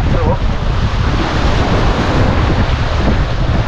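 Big surf crashing at a pier on the Central Java coast, with strong wind and rough, murky water; a steady, loud wash of waves and wind roar fills the whole stretch without letup.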